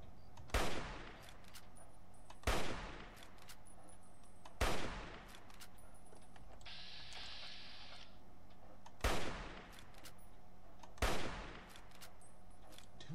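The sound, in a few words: gunshots in the video game Fallout 3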